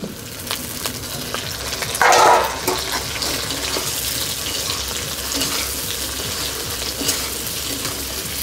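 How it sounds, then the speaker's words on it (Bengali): Onion and chopped tomato frying in hot oil for a fish kalia, a steady broadband sizzle throughout with a louder burst of spitting as the tomato hits the pan, and no talk. "কালিয়ার জন্য তেল গরম হয়ে গেছে, পেঁয়াজ দেবো প্রথমে, টমেটো কুচি দিয়ে দিলাম"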